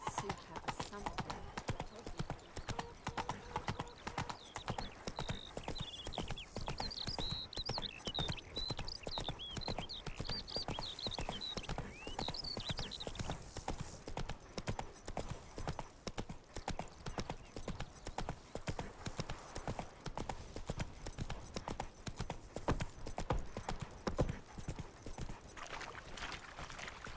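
Hooves of Roach, a horse in the video game The Witcher 3: Wild Hunt, clip-clopping at a steady gallop, with a brief whinny and speech throughout.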